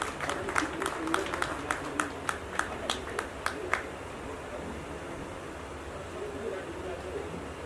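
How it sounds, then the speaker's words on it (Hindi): Scattered, evenly spaced hand claps, about a dozen, ring out over a noisy room as a guest is welcomed onstage at a song launch event, then stop, leaving only background murmur. "पुरजोर तालियों से इस्तकबाल करें।"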